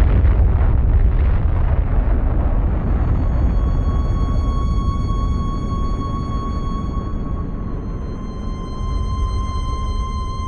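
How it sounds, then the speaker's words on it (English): Archival recording of the first atomic bomb striking its target on the morning of August 6th: a loud, sustained roaring rumble fills the whole clip alone, with steady high tones emerging over it partway through. "At 8:15 in the morning of August 6th, Japanese time, the first atomic bomb struck an enemy target"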